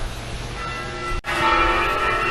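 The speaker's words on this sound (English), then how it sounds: "that's very clever timing because the church bells are ringing" Church bells ring out loud and full, their long overlapping tones sustaining with a brief break in the middle before the pealing carries on.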